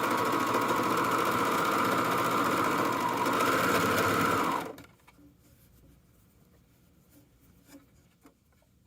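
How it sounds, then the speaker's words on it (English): A serger overlocks the hem of a Kwik Sew hoodie, running with a loud, fast, steady mechanical whir for about four and a half seconds. It then stops, leaving only faint fabric handling and light rustles. "So you'll just serge like this,"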